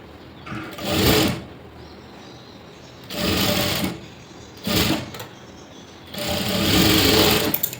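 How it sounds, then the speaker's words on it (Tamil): A sewing machine stitches a blouse seam up close in four separate runs of busy mechanical whirring, each lasting about a second or more and split by quiet pauses, the last run the longest. "இதை அப்படியே ஒரு தையல் ஓட்டிக்குவாங்க."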